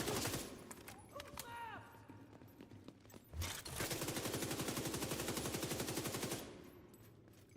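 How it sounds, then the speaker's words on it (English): Automatic weapon fire in The Division 2. A few scattered shots come first, then a long, steady burst of rapid gunfire runs loud for several seconds and stops. A voice can be heard near the start. "What is he shooting at?"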